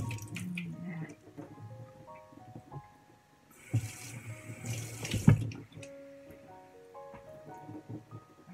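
Pieces of steamed pork briefly dipped in water while making Thai fermented pork sausage (naem), with soft sloshing, splashes and drips in a sink-like setting, one louder splash midway, amid quiet kitchen background.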